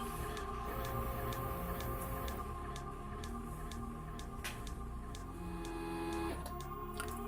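A small motor driven by a CBX motor controller runs steadily nearby, giving a continuous whirring, whining hum with faint rhythmic ticking throughout.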